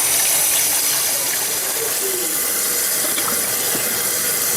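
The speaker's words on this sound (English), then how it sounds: "Just want to rinse it off, especially the inside." A raw turkey is rinsed inside and out under a running kitchen tap, a loud, steady splashing stream of water pouring into a sink without pause, with no voices over it.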